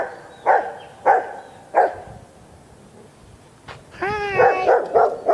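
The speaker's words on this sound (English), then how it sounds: "Hello, dog." A dog barks in a few sharp, evenly spaced single woofs, then breaks into a higher whining, yelping run of barks near the end, close by and loud in a quiet indoor space.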